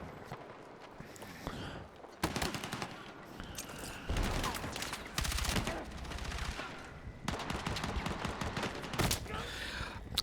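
Heavy suppressing gunfire in the Battlefield 6 video game: loud, dense bursts of automatic shots in several volleys, with brief pauses between them.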